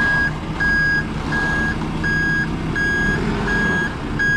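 A truck backing up with its reversing alarm sounding a steady series of loud, evenly spaced beeps over a rumbling idling engine, close by and with no talking.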